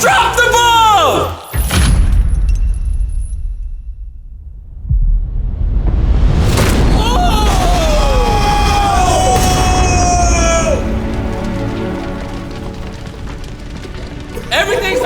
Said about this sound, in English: Fire, a bomb just went off.